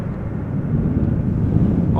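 An Embraer airliner at Amsterdam Schiphol Airport gives off a steady, loud, low rumbling roar that stays even across the short stretch, heard alone with no talking.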